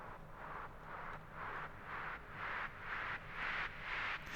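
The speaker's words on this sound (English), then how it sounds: "The noise track is just a bit of white noise" Hissing white noise that swells and fades in regular pulses, each wash of static growing slightly louder over a few seconds.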